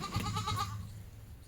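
A three- or four-day-old goat kid bleats a few short, high, wavering calls close by, then the sound fades into quiet.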